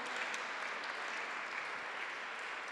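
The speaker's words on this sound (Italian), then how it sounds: "Sempre ancora un applauso a Maso Notariani e Elena per la comunicazione" Steady applause from a conference audience, an even, continuous wash of many hands clapping, heard faintly at a distance with no voices over it.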